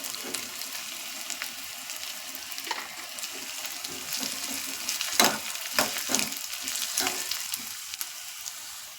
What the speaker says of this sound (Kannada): ಇದು ಬಣ್ಣ ಚೇಂಜ್ ಆಗಬೇಕು ಸ್ವಲ್ಪ ಅಲ್ಲಿ ತನಕ ಇದನ್ನು ಫ್ರೈ ಮಾಡ್ಕೊಳ್ಬೇಕು